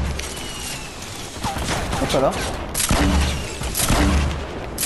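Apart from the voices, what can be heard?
grenade launcher fire in a video game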